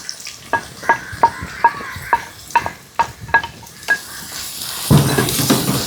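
Crushed ginger, garlic and shallots sizzle in hot oil while a utensil scrapes and stirs the pan in a steady series of sharp clacks, ending in a louder burst of frying.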